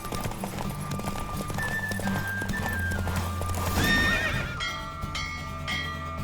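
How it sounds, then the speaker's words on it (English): Horse racing at full gallop in The Witcher 3, with loud, steady hoof clip-clop, a whinny partway through, and game music and bell-like tones layered over it. "Don't spare the horse! Faster."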